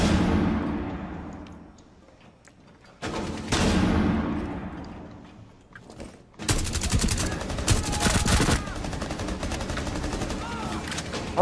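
Gunfire in Rainbow Six Siege: a loud burst that rings out and decays, a second burst a few seconds later, then sustained rapid automatic fire lasting several seconds, close and harsh, with brief talk in between.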